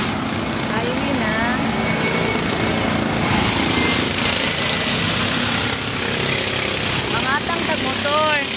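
A small motorcycle engine drones steadily while riding along a highway, a constant buzzing hum with wind rush, and people talk over it.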